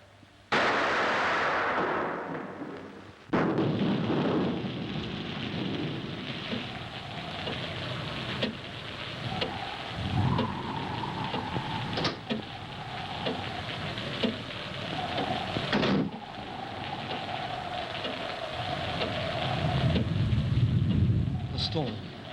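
Thunderstorm at night in an old house, rumbling thunder rolling continuously with loud cracks and swells over steady rain, close and heavy throughout, with a brief muffled sound before the storm bursts in.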